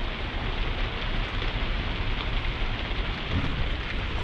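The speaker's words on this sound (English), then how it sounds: "This is kind of nuts to see this much rain coming down." Heavy rain pours down steadily in a dense, unbroken roar, with no voices.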